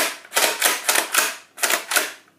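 A toy Nerf blaster styled after Star Wars with a six-shot revolving cylinder, its plastic parts giving five or six sharp, close clicks and snaps in an uneven rhythm, with no talking.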